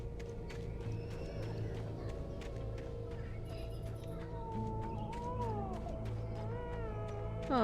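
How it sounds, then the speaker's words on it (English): A baby's wailing cry in the video game Alan Wake, rising and falling in several drawn-out sobs over a steady low game ambience, with no talk over it. "Oh, I hear a crying baby."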